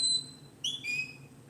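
Two sharp, high human whistles sound as herding commands to a sheepdog, a short steady blast followed by a rising then falling whistle, clear and close over quiet outdoor background.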